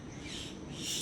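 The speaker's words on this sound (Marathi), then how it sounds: "पक्ष्यांचा आवाज येतो आहे" Faint, high-pitched bird chirps in the distance over a soft outdoor background, brief and continuous.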